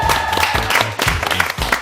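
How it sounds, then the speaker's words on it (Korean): Scattered studio applause rises during a product segment on a television show, a short burst of several people clapping with voices mixed in underneath. "원래 박수 안 치는데 특별하게."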